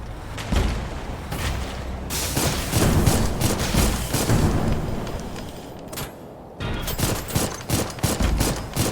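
Missile launches and gunfire in the game Dolls Nest come as dense, loud volleys of rapid shots and booms, with a short lull before another heavy burst of fire.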